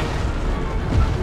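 Artillery fire in the video game Total War Napoleon, a dense, loud rumbling roar of booming cannon blasts that runs for the whole short moment without a break.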